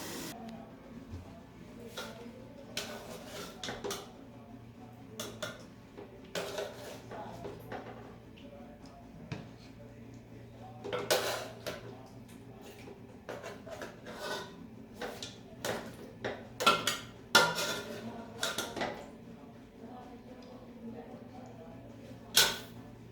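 Dishes and pans clatter while fried chicken is served out at home, with scattered sharp clinks and scrapes of metal and crockery, some bursts louder and clustered, over a low steady hum.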